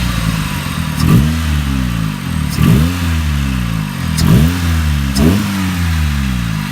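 Turbocharged Honda Civic hatchback engine revving in loud, repeated blips, four sharp rises and falls in pitch, close up with no talking.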